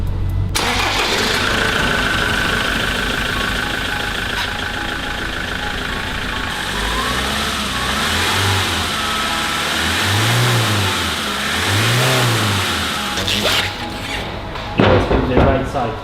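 A Land Rover Defender engine, recently modified for more power, cranks and catches, then settles into a loud, close idle with several rising revs in the later part.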